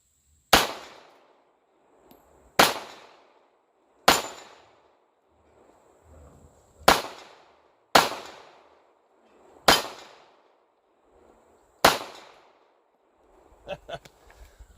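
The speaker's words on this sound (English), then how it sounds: "That wasn't very good shooting, was it?" Ruger LCP II .380 ACP pistol with an extended magazine fired at a range: seven sharp, loud shots with short decays at uneven one-to-two-second intervals, followed by faint handling clatter.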